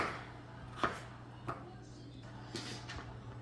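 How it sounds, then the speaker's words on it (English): A knife chops russet potatoes into small chunks on a cutting board, giving a few sharp, sparse knocks at close range over faint background noise. "we'll get the potatoes cut up and we'll come right back"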